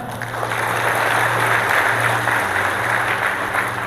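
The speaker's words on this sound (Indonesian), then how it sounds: "Tepuk tangan dong." Applause from a seminar audience rises into a steady wash of clapping with a low background hum, moderately loud and continuous, with no clear voices over it.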